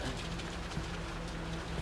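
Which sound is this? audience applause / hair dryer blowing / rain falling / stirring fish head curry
rain falling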